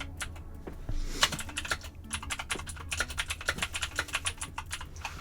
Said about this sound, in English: You're typing